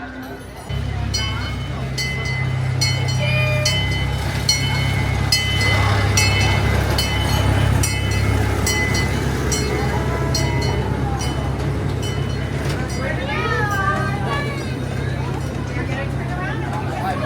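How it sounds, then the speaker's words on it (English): An amusement park train at Adventureland in Altoona, Iowa rumbles steadily into a station with a low engine drone and clattering wheels, while crowd chatter and voices carry over it. "looks like the train is coming back in to the station"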